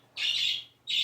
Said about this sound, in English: Excuse my little birds. They're being really naughty today.